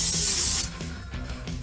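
Cleaner sprayed onto a part during a Nissan Sentra QR25 engine rebuild, one loud, close, steady hiss lasting under a second before cutting off to quiet handling noises.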